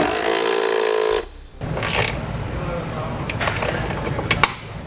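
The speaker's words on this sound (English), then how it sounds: "we're going to go ahead and tighten our bolts for our bracket into our frame" A power tool whirs loudly as bracket bolts are tightened into the frame of a 2018 Ram truck for nerf bars, stopping abruptly, followed by clicks and short bursts of ratcheting.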